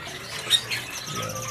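Songbirds chirp at a bird market kiosk in Pramuka market where green leafbirds and magpie-robins are sold, with scattered short tweets over a busy background hum.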